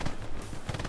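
Gunfire in the World War II shooter Hell Let Loose, a short burst of rough, crackling shots and impacts with a sharp crack near the middle, heard at moderate distance within under a second.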